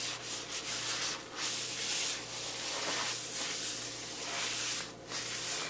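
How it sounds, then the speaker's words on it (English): A paper towel wipes excess beeswax off a wooden cutting board in repeated soft, close rubbing strokes, a faint papery swish with no talk. "take just a regular old paper towel, lightly wipe off any excess"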